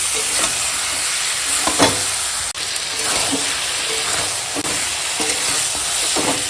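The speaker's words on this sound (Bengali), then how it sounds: "দেখো এখন মাংসটা আমি কষাচ্ছি" Goat meat spiced with Kashmiri chilli powder and salt being stir-fried in a pan, a loud continuous sizzle with repeated scraping strokes of the spoon every second or so, no talk.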